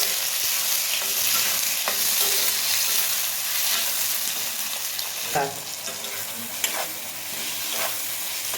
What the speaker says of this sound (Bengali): এবার ভালো করে নাড়া করে দিতে হবে।